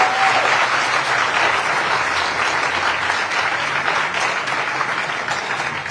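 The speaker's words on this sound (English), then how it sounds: "I would like you to give a big applause to the team who made this conference happen." A conference audience applauds the organizing team at an International Association for the Study of the Commons gathering, a loud, dense, even wash of clapping that fills the room for several seconds and fades slightly at the end.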